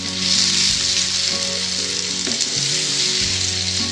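Egg and onion masala sizzles loudly in a frying pan while it is stirred, with a constant bright hiss and soft scraping shifts throughout.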